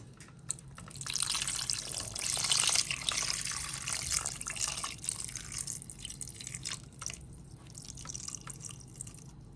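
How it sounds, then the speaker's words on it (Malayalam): Cold water pours and splashes over cooked Chinese potatoes (koorka) in a container, a close, steady trickling stream with a few bursts of stronger splashing before tapering off. "നമുക്കിനി ഇതിലേക്ക് കുറച്ച് നല്ല തണുത്ത വെള്ളം ഒഴിച്ചു കൊടുക്കാം"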